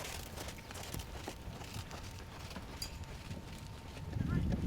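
Faint, rhythmic hoofbeats of a trotting horse in a riding arena, soft and somewhat distant, with a voice in the background.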